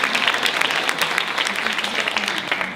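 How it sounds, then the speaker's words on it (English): A school reunion crowd claps for the staff, a dense, loud and even round of applause from many hands that carries without pause from start to finish. "maybe one more round of applause for everyone that keeps this great school running"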